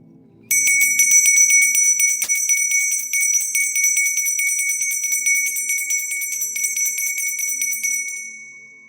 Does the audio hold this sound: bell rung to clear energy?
yes